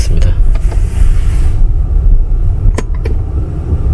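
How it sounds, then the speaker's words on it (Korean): A Tesla Model 3 creeps forward and backward at under 8 km/h, heard as a steady low rumble of tires and road with faint motor whir and a couple of light clicks, no voices. "시속 8km 이하에서는 이렇게 앞뒤로 왔다 갔다 할 수가 있습니다"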